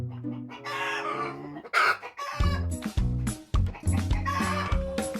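Chickens clucking and squawking close by, with a rooster crowing among them; the calls come in busy overlapping bursts without pause.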